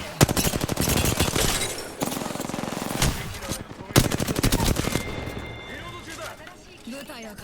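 Rapid automatic gunfire in Apex Legends, loud close bursts of rattling shots over several seconds with short pauses, with players talking during the fight.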